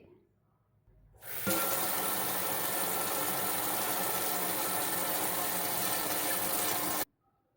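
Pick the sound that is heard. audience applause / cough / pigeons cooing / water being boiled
water being boiled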